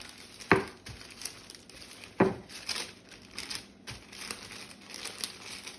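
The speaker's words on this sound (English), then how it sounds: "very gently, we're just going to roll those breadcrumbs" Soft crinkly rustling and light taps as chicken is rolled through dry breadcrumbs, with two sharper crunchy handling sounds, close and fairly quiet.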